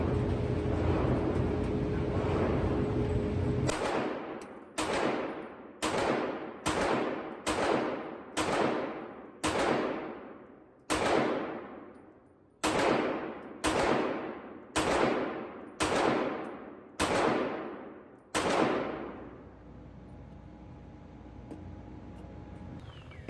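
Walther PDP steel frame pistol fired at an outdoor range, thirteen sharp, loud shots in an uneven string with short gaps between them, each ending in a brief decaying echo, preceded by steady background rumble.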